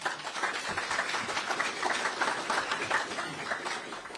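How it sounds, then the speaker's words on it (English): An audience at the Magic City Classic news conference breaks into steady applause, a dense, even patter of many hands clapping nearby for several seconds without a pause. "Please clap for that."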